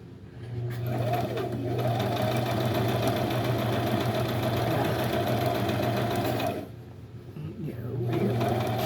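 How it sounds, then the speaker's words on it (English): A sewing machine running a zigzag stitch on setting 3, a steady, close, mechanical hum with a regular rattle. It runs continuously, stops briefly, then starts again. "I like to put it on number 3 to do this zigzag stitch here"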